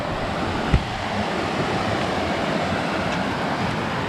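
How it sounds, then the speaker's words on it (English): Small brook along the Long Trail, steady broadband rushing and gurgling of flowing water throughout, fairly loud and close, with one brief knock near the start. "Nice little brook."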